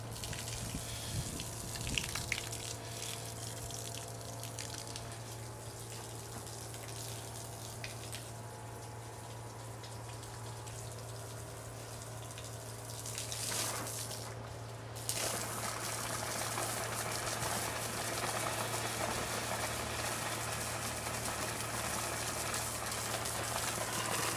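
Water flushes through the heater core of an old Jeep, a steady gushing rush over a constant low hum that briefly dips and then returns stronger, with no talk.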